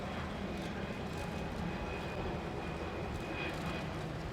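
A US Air Force U-2S aircraft in a flying display at an airshow, a steady distant jet engine roar holding evenly throughout with no talk.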